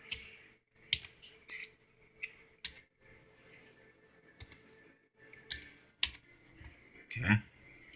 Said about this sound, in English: I'm just going to type in here because I'm holding the camera, typing with one finger here